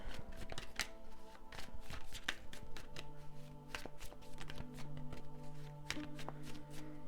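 A deck of cards riffled and shuffled for a tarot-style pick-a-card reading, producing rapid repeated snapping flutters and taps in a steady rhythm, close and quiet with no talking.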